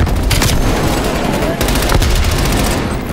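In a Call of Duty Black Ops Cold War multiplayer Domination match on Garrison, rapid automatic gunfire rattles loud and close, broken by sharper bangs that suggest a grenade blast, a steady barrage.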